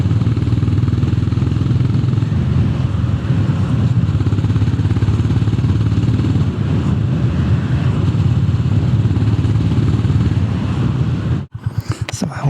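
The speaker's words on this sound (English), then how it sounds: "So I hope you can hear the exhaust note." A Honda GB 350 S 350cc motorcycle exhaust thumps steadily with a deep, loud, continuous rumble and cuts off abruptly near the end.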